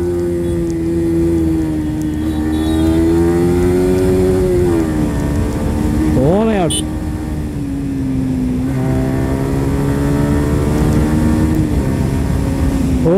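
A Yamaha R15 motorcycle accelerates hard from second gear on an open road with a loud, close engine note. It climbs in pitch, dips at gear changes, then rises again.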